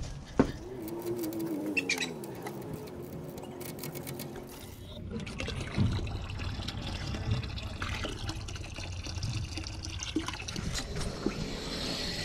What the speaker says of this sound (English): For now, we got the coolant warm enough to drain